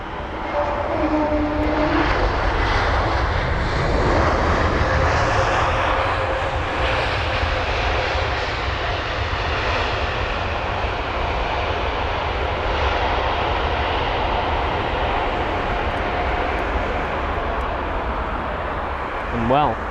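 A Swiss jet arriving from Zurich at London Heathrow roars loudly and steadily for the whole stretch with a deep engine rumble, while voices talk faintly beneath it.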